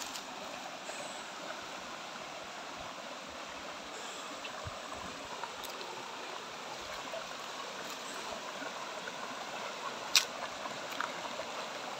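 A forest river rushes over large rocks in a steady, full, continuous wash of water, close and constant throughout with no voices.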